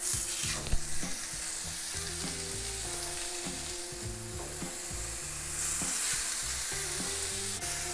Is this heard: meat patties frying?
yes